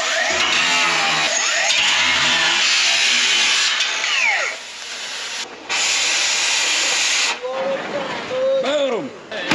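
A grinder cuts through a metal railing with a loud, continuous high-pitched hiss and screech that pauses briefly between passes. Rising and falling whines mark the cutting pressure, and a voice is heard faintly.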